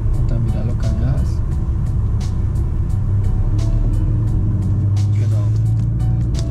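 Car engine during a driving lesson, a steady low rumble that rises gently as the throttle is eased on, heard from inside the cabin under an instructor's spoken directions.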